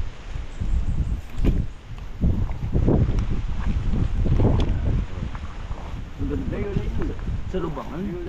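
Gusty wind buffets the microphone in rough low bursts while people talk nearby outdoors, digging holes to set posts for a hut.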